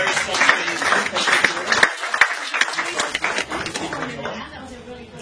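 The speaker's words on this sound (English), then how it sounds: "Do you want a big round of applause?" An audience at a property information night gives a round of applause, a close burst of clapping mixed with chuckles and chatter that thins out toward the end.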